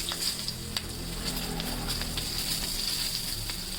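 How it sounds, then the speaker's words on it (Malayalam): Small onions sauté in oil left over from roasting pappadam for a Kerala pappadam chammanthi, making a dense, close, fairly loud sizzle with scattered sharp pops across the few seconds. "ഇനി ഞാൻ പപ്പടം പൊള്ളിച്ചെണ്ണയിൽ തന്നെ നമ്മുടെ കൊച്ചുള്ളിയും ഇതെല്ലാം ഒന്ന് വഴറ്റിയെടുക്കണം."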